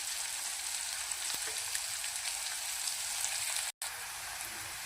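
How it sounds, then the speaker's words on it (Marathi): Chopped onion fries in oil with a steady, fine hiss like light rain, even and fairly quiet, cut by a brief moment of silence near the end. "हा कांदा चांगला खमंग फ्राय करून घेऊया."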